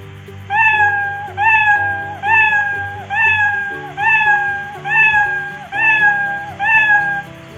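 A cat meows repeatedly, eight evenly spaced loud meows in a steady rhythm, close and clear over faint background music, as a sound effect in a Scratch animation.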